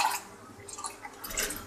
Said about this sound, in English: I'm going to pour the glass of milk